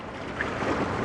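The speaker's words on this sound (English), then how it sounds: "Waves are a little bit rough, a little bit choppy." Choppy, slightly rough lake water on an early morning fishing outing, a steady broadband wash of waves mixed with wind noise on the microphone, continuous and fairly loud, no talking.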